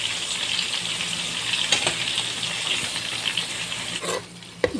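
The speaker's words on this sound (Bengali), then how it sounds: "সামান্য পরিমাণ হলুদ এবং লবণ মিক্স করে আমি তেল দিয়ে ভেজে নিচ্ছি" Small pieces of chicken coated in turmeric and salt frying in oil, a steady dense sizzle holding throughout, close and fairly loud, dropping briefly near the end.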